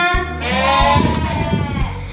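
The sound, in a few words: children imitating sheep bleating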